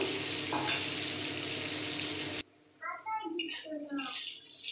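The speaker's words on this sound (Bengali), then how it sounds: "আলুটা ভেজে নেব।" Potatoes fry in oil, sizzling and crackling steadily at first, then cut off abruptly as voices talk, with a faint background hiss.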